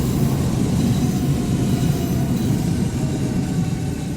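Train in Train Simulator Classic on the Hamburg route, a steady, loud low rumble of a moving train that continues evenly throughout, with no voice.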